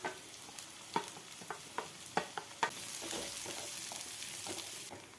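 Onions dropped into hot oil in a kadai with ginger and garlic, a steady sizzle under sharp scraping clicks of stirring, spaced irregularly and close by, with the frying hiss swelling louder partway through.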